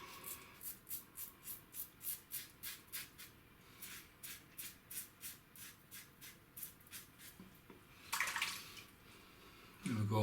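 A Razorock Game Changer safety razor scrapes through lathered stubble in a quick run of short, rhythmic strokes, close and crisp, followed by a brief splash of water and a rinse near the end.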